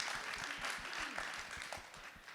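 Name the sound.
audience applause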